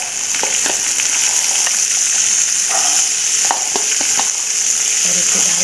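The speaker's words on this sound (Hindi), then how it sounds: "चना डाल के हमने इसे भून लिया है" Boiled chickpeas frying with cumin over a medium gas flame, a loud bright sizzle with repeated scraping stir strokes, close-up and free of talk.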